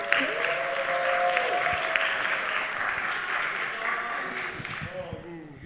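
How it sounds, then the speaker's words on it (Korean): Church youth congregation at a Sunday service applauding steadily, a dense sustained wash of clapping with some voices mixed in, thinning out toward the end. "나오실 때 박수 보내주세요"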